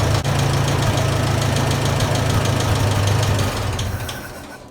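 A Massey Ferguson 65 tractor engine runs with a steady low rumble and knocking pulse for several seconds, then fades toward the end as it begins to die.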